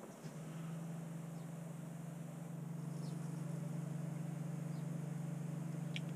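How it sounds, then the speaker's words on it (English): A Shurflo water pump runs while filling a campervan's water tank, giving a steady low mechanical hum that continues unbroken beneath faint background noise, with a few small clicks. "you might hear the water pump kicking in the background"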